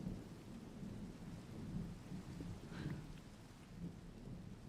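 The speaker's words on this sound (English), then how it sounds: "Oh, the thunder. Can you hear the thunder, chat?" Rain falls steadily in Minecraft while low thunder rumbles and rolls underneath, a faint, continuous storm bed with no speech.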